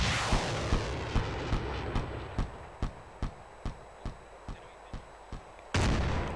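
An anti-tank rocket launcher in a video game fires at a tank. A fast, regular series of about fourteen sharp gunshot-like cracks is followed by a heavier, louder blast near the end, all close and without talk.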